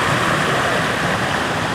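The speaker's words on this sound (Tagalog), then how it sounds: "Ayan yung pinaka-falls doon sa taas." Water pours steadily at Galbadon Falls, a broad, even rushing roar that holds at one level from start to finish with no voices over it.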